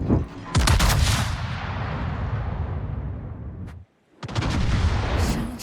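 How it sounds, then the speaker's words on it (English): Heavy naval gun salvo from the Sun Yat-Sen in World of Warships, a loud booming blast with a long rumbling tail, a brief silence, then a second thunderous salvo. "I fired another salvo at him"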